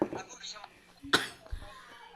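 A single sharp cough stands out in the middle, surrounded by quiet murmuring and faint background sounds.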